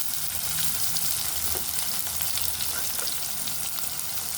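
Chopped onions frying in oil for an ivy gourd and fresh coconut curry, a dense, continuous close sizzle with faint stirring underneath and no talking.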